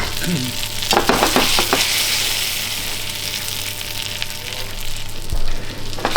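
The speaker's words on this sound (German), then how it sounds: "Ein bisschen Butter, ein bisschen Öl in der Pfanne erhitzen. Die Pilze hineingeben." Wild mushrooms, including horn of plenty, hit a pan of hot butter and oil and fry with a loud, steady sizzle, broken by a few scraping stirs near the start and a knock toward the end.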